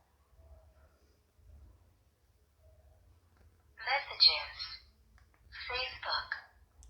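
An I Kall K78 keypad mobile phone speaks short synthesized voice prompts as menu options are scrolled, two brief spoken bursts a few seconds apart over a faint low rumble of handling.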